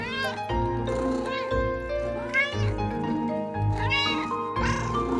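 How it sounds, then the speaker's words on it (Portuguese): A cat meows repeatedly in drawn-out, rising and falling cries, close and loud, with a soft musical background underneath. "Você acertou. É um gato."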